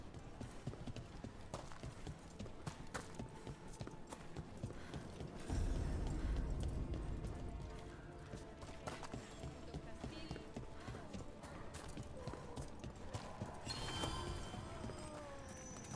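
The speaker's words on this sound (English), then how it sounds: "there was a horse in the stable" In Dragon Age: The Veilguard, a horse's hooves clip-clop in a steady rhythm at low volume, with a soft whinny and scattered game effects mixed in.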